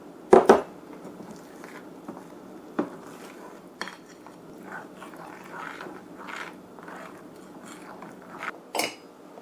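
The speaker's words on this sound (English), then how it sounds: "we're going to add 1/2 cup of boiling water to the wheat starch and just mix it up" Wheat starch stirred with boiling water in a bowl, heard as sparse clinks and scrapes of a utensil against the bowl, with a sharp knock near the start and a few more taps spread out over a quiet background.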